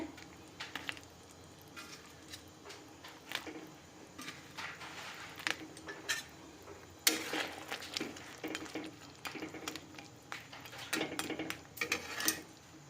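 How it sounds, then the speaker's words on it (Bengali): Prawn malai curry bubbles and simmers in a pot, soft gurgling and sizzling with scattered clinks and stirring scrapes of a spoon against the metal, fairly close and quiet, with no talking. "চিংড়ি মাছগুলো দিয়ে আর কিছুক্ষণ আমরা একটু ফুটিয়ে নেবো ভালো করে"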